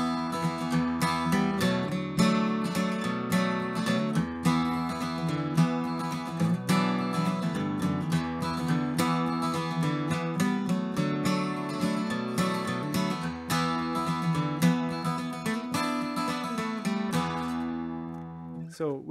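Part one of the Irish tune Cooley's Reel, picked on guitar as a continuous run of quick, evenly paced notes close up, lasting the whole passage and ending on a final ringing note.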